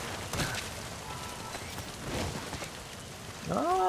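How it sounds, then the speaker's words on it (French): Faint, steady rain in the video game Metal Gear Solid V: The Phantom Pain hisses throughout, soft and continuous, with a brief rising whoosh near the end. "ça, à mon avis, c'est que la pluie."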